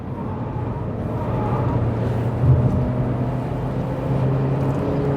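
An SWM G01F car engine drones steadily with a slight rise in pitch as it accelerates out of a corner, heard from inside or close by, with no talking.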